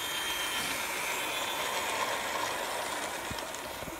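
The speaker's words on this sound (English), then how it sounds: "I love our little train." A small toy train runs around a Christmas village display, giving off a steady mechanical whirring and clicking rattle that continues throughout, close by and fairly quiet, with no talking.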